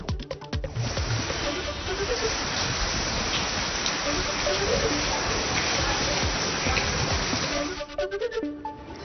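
Heavy monsoon rain pours down in Bhiwandi, a dense, steady roar of water loud and continuous, with faint voices and movement at the start and end.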